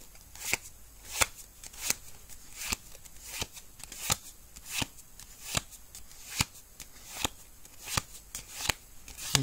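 Pokémon trading cards are flipped through quickly by hand, each one giving a crisp snap at a steady rhythm, close and fairly quiet, with a soft papery rustle between the snaps.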